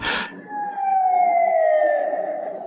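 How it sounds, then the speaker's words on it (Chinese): An ambulance siren wails loud and close, a sustained tone gliding slowly downward over a low road rumble, with no voices. "地心不是地心，那是救护车。"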